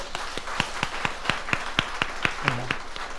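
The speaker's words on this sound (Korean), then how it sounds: "우리 박수로 영광 돌릴까요?" A church congregation at a Sunday service marking the church's seventh anniversary claps in a steady rhythm, sharp evenly spaced claps at moderate volume with a brief low tone near the end.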